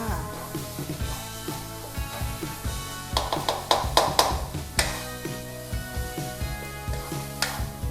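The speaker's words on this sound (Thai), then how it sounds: "เราแค่ไปผัดให้มันเครื่องแกงมันหอมเท่านั้นเองนะคะ" Jackfruit stir-fried with curry paste sizzles softly in a pan under tuneful background music, with a cluster of sharp utensil clanks and scraping strokes in the middle.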